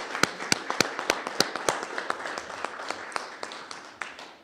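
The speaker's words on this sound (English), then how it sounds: "Give a round of applause." Sparse, evenly spaced claps from a small crowd at a Cahokia Heights community event with Senator Dick Durbin, sharp individual hand claps repeating roughly three times a second at moderate distance.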